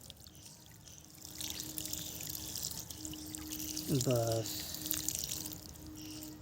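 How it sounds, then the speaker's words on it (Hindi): Water poured lightly from a container onto potted adenium plants, a soft continuous trickle under someone speaking Hindi, growing a little louder midway. "सिंपल हल्का सा पानी आप इसमें दे दीजिए"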